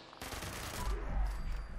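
A 10mm submachine gun fires in the video game Fallout 76, a rapid burst of automatic shots rattling quickly and fairly loud against the game's background.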